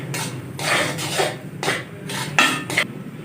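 A spoon scrapes and rubs through roasted gram flour halwa with cardamom in a pan, giving five or six distinct, fairly close rasping strokes in an irregular rhythm with no talking.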